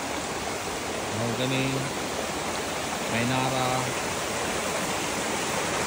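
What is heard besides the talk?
river stream flowing through mahogany forest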